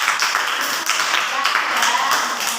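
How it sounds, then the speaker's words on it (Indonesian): Hand clapping from a small group in a classroom-style session for teenagers, rapid and close, with voices chattering underneath. "Oke, tepuk tangan."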